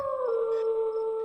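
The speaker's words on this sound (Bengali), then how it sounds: "পুকুরের ওপর পাশ থেকে ঘন জঙ্গল থেকে ভেসে আসছে শিয়ালের ডাক।" A jackal gives one drawn-out, wavering howl from dense jungle across a lonely pond after dark, heard clearly and alone.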